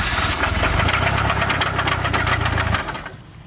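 A blown Mitsubishi Evo 4 engine runs with a rapid, loud mechanical knocking and clatter from internal damage, continuing for a few seconds before the noise drops away near the end.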